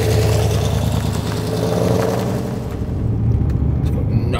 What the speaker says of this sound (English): Can you hear it, that misfire?